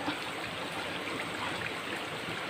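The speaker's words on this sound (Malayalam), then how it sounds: "അത് ഒഴിച്ച് കൊടുത്ത് ഒന്ന് ഇളക്കി ഒന്ന് എടുക്കാമെങ്കിൽ അടിപൊളിയാണ് വെളിച്ചെണ്ണ ഒഴിച്ചിട്ട്" Coconut oil poured into a home-style Kerala fish curry gives a steady, soft liquid hiss and trickle that runs evenly and alone, with no talk.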